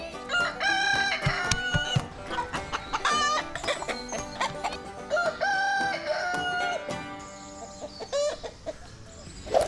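A rooster crows and clucks loudly and close, several cock-a-doodle-doo calls run together with busy fowl clucking throughout and no talk over it.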